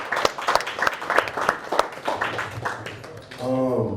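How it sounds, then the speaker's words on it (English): Applause from the audience at a panel of LA creatives: scattered, fairly close claps over a few seconds, fading as a voice resumes speaking near the end. "Clap it up for that."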